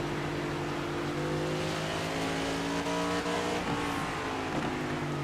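Cruisin Classics Next Gen Series race cars run on the Nashville track, with several engines droning and shifting pitch together in a steady, loud, continuous roar as they pass.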